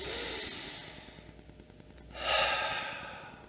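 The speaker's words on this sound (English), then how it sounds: "Second breath, soften. And third breath," Two slow, deliberate breaths taken close up in a short mindfulness practice, a long airy exhale fading out, a pause, then a deeper rushing inhale that swells and tapers away, with no speech.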